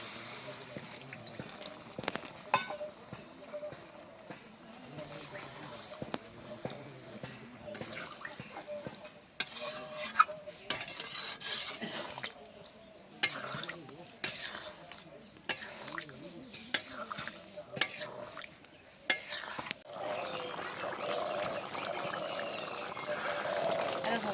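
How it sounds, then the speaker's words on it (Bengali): Water poured into a pan of pointed gourd and prawn curry, splashing and trickling, followed by scraping stirring strokes and bursts of sizzling and bubbling; steady, close-up kitchen sounds with no talking. "এবার দিয়ে দিচ্ছি পরিমাণ মতো জল"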